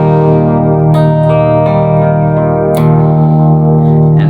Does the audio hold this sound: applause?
no